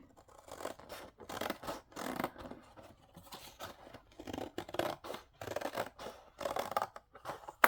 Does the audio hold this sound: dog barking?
no